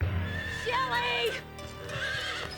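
A horse whinnies, a loud, wavering neigh rising and falling, with a second shorter whinny following, set against a busy background of ambient noise.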